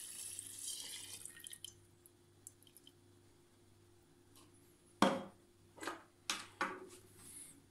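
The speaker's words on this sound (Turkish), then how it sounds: "600 mililitre etil alkolümüzü üzerine ilave ediyoruz" Ethyl alcohol, 600 ml of it, splashes into a jar for homemade limoncello: soft quiet trickling at first, then several short liquid gushes and sloshes near the end, close and fairly faint.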